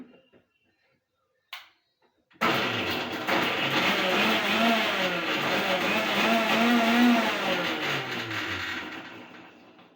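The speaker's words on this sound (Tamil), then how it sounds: "இப்போ மிக்சர் ஜாரில் போட்டு அரைச்சிடலாம்" After a brief quiet moment, a mixer grinder jar grinding cooked onion and tomato for chutney kicks in with a loud, near motor whine whose pitch wavers, then runs steadily before slowly fading.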